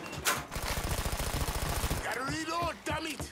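Rapid automatic gunfire from the Mafia 3 video game rattles in a fast, evenly spaced burst for about two seconds, followed by a voice speaking as the shooting stops.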